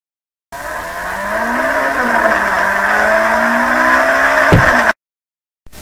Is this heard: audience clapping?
no